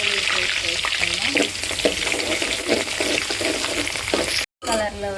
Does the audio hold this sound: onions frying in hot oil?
yes